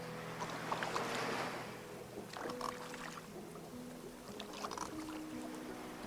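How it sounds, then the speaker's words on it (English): Paddling a small boat in the video game Lushfoil Photography Sim, with soft watery strokes and lapping over a quiet ambient bed, faint and steady with no talking. "I'm actually paddling."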